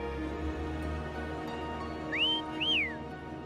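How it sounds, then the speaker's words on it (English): Two short rising-then-falling whistles, clear and fairly close, call a companion named Foam in the video game Wuthering Waves over a steady ambient game backdrop. "Try whistling."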